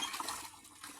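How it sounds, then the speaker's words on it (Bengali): Tap water runs steadily into a container as people collect water outdoors, a continuous rushing splash of moderate level with no talk. "সবাই জল নিচ্ছে"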